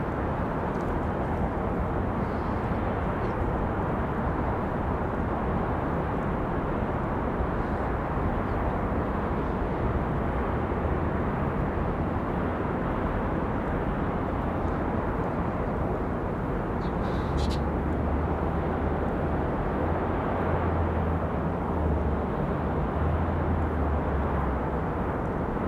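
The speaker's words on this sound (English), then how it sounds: "This one here is United 1365 coming in from Newark, New Jersey, 737-700." A United Boeing 737-700 airliner landing at Raleigh-Durham airport, a loud continuous broadband jet roar that holds steady across the whole stretch, with a deeper rumble swelling near the end.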